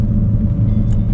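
A BMW E90 engine pulling under full throttle in fourth gear, a loud, steady low rumble from inside the car with no talk.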